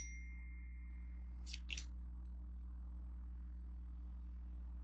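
A phone notification chime sounds once as a quick double ding, fairly clear over a steady low hum in an otherwise quiet room.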